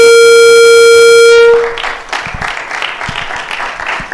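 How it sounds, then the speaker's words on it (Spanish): A loud steady electronic tone cuts off, and an audience at a university talk breaks into sustained clapping to welcome a company CFO to the stage, moderately loud and continuous. "un fuerte aplauso para recibirlo"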